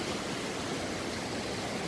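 River water rushes steadily along an inside bend on a gold-prospecting creek, a close, even broadband wash with no pauses and no voices.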